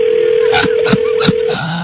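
A telephone dial tone sounds while a call is placed from a radio morning show studio: a loud, steady hum for about a second and a half, broken by a few short clicks, then it stops.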